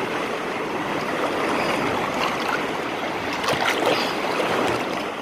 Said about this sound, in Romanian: Valurile sunt foarte mari.